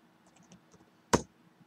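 A single sharp keystroke on a computer keyboard stands out after a few faint, light clicks, close and quiet otherwise.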